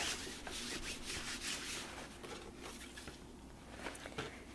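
A cloth rubs and wipes excess paint off a surface in quick, soft scrubbing strokes, quiet and close, repeating irregularly with no speech.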